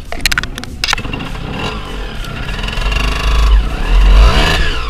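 A Suzuki TS or Yamaha enduro motorcycle engine fires up and revs, a loud close rasping two-stroke-style drone that climbs in pitch and intensity, with no talking.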